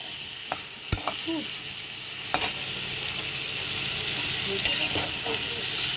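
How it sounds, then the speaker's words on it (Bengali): Shrimp tossed with salt and turmeric in oil in a kadai make a steady, moderate sizzle, with a handful of sharp knocks and scrapes from the stirring spoon and no talk. "আমার কড়াইতে তেল আছে ভালো করে এটাকে আমি মিলিয়ে নিচ্ছি"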